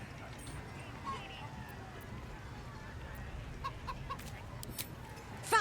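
A chicken in Baldur's Gate 3 clucks softly in short, scattered bursts over a low background rumble, with voices present in the scene.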